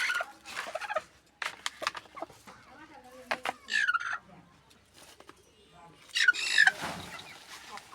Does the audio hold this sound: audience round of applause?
no